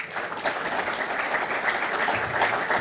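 Applause from the audience at the Prix Turgot award ceremony in Bercy as two authors are called up, a steady, moderate patter of many hands clapping with no voices over it.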